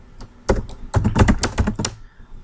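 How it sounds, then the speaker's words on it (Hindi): Someone types English text on a computer keyboard in LibreOffice Writer: a quick, close flurry of clicking keystrokes in uneven bursts, with no talk. "अभी इंग्लिश में टाइपिंग कर रहे हैं हम।"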